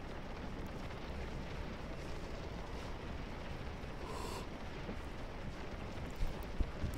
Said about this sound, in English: Something about a line of infantry just firing away, though, that's tragic yet beautiful, I would say.